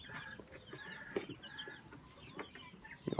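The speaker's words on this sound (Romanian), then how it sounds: "și 2 pui de găină și de aia pitică." Young bantam chicken chicks give faint, scattered clucks and peeps in a quiet farmyard pen, with a few sharper calls near the end.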